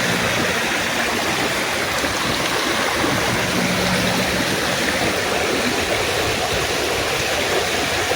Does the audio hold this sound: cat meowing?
no